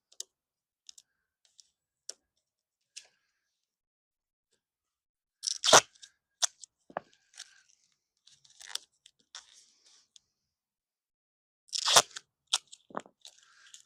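A blade cuts through vinyl for the light opening in an inground pool liner, with scattered sharp clicks, crunches and tearing snips in small clusters, close and fairly quiet with gaps between them.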